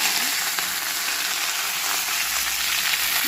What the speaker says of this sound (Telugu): నూనె వేడెక్కింది ఇప్పుడు దీనిలో మినపప్పు శనగపప్పు ముందు వేస్తున్నాను ఇప్పుడు ఆవాలు జీలకర్ర ఇంగువ వేస్తున్నాను